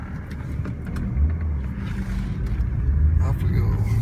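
A 1998 BMW M3 engine hums and builds as the car accelerates, a low steady rumble from inside the cabin with people talking over it.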